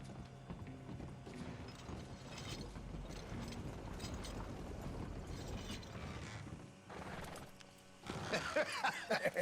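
Horse hooves clip-clop at a steady trot in Red Dead Redemption 2, mixed with mechanical rattling and a busy ambient bed, with a louder burst of activity near the end.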